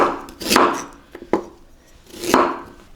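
A knife slicing through ginger on a cutting board, with three or four distinct cuts, each ending in a sharp thud against the board, close and clear, with no talk.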